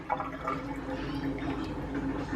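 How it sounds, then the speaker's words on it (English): A household toilet flushes with the handle held down to drain the tank, producing a steady, close rush and gurgle of draining water throughout. "I'm holding down the flusher here to empty out as much water from the tank as possible."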